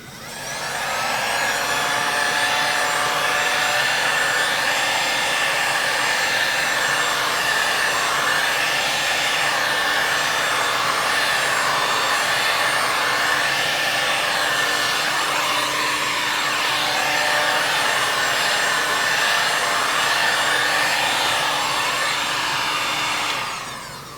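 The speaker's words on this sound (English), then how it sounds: "A great way to do that is to use your heat gun, and I like to warm the panel to around 120 degrees." Heat gun warming the liftgate panel of a Toyota RAV4 before a glue pull dent repair, a loud close blowing roar with a high motor whine that holds steady for over twenty seconds and then cuts off, with no talking.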